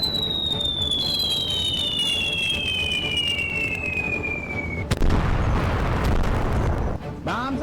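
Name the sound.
bombs exploding on target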